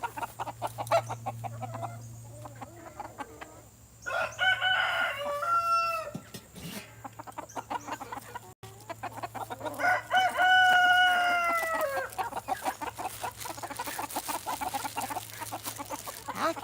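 Silkie chickens cluck and crow in bursts across the clip, a rooster's crow standing out loudly near the middle over a steady low background hum, with no talking.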